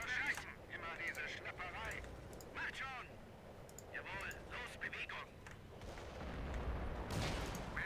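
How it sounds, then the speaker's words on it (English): Artillery shells whistle in and burst around a Company of Heroes battlefield in the Far East War mod, a string of booms and incoming whines scattered over several seconds, with voices talking over the game noise throughout. "Ooh, shells flying in."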